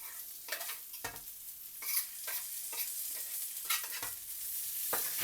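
Half a red onion hits a pan over lowered heat and sizzles steadily nearby, with several sharp scraping stirs from a utensil through the frying and no voices.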